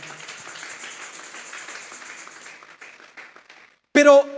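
A church congregation claps its hands together as an offering of applause to God, a dense patter of many hands under a preacher's voice, ending with a sudden louder burst of sound.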